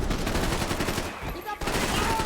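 Rapid gunfire from the shooter video game Max Payne 3, dense bursts of shots filling the clip with a brief dip near the middle before the firing resumes at full loudness.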